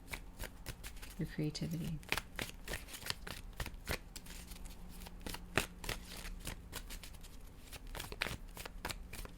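A tarot card deck shuffled by hand in steady rapid riffles and flicks, close and crisp, continuing throughout while a voice speaks softly over it.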